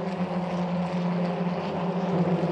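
SEAT Leon Eurocup race cars accelerate around the Silverstone circuit, heard as a steady, continuous engine drone at moderate distance with no break in the sound.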